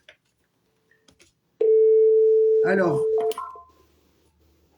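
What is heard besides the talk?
telephone busy signal and dialing tones from a mobile phone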